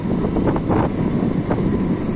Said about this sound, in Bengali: শীতের বাতাস উপেক্ষা করে ছুটে চলেছি